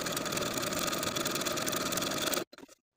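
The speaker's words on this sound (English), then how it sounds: "using the longest stitch length on your machine and about a half inch seam allowance, sew all around the curve of the ruffle" A sewing machine stitches a curved fabric ruffle at its longest stitch length, a steady close mechanical whir running continuously before stopping abruptly, followed by a couple of faint brief sounds.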